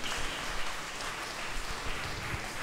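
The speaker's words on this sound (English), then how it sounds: "Can we give them another round of applause?" A church congregation at a Pentecostal celebration service claps for a few seconds in a continuous, fairly soft patter of applause.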